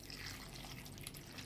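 Water pours into a cooking pan for bitter gourd seasoned with garcinia and turmeric, a brief, steady splashing trickle up close.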